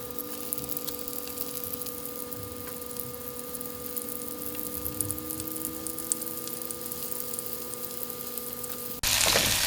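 Onions frying in vegetable oil over medium heat for a home-made chicken biryani, a steady soft sizzle with faint crackles over a constant kitchen hum, ending in a sudden louder hiss.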